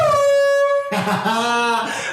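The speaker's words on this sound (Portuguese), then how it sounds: "Vai apertar a buzina, Gabriel?" An air horn blares with a steady, loud harmonic tone for nearly a second, then cuts into a burst of voices and laughter from a group in a room.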